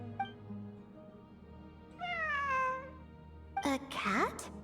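A cat meows in the Genshin Impact video game: a faint chirp, then a longer drawn-out meow, and a louder, sharper meow near the end over quiet ambient game music.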